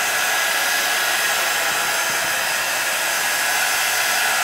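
A heat gun blows hot air during work on a multi-use painted background, making a steady, close, continuous whooshing roar with no pauses and no talking.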